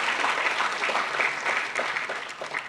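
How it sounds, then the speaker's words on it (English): An audience at an inaugural ceremony for a human rights institute gives a continuous round of applause, steady and moderately loud throughout. "I think he deserves a round of applause as well"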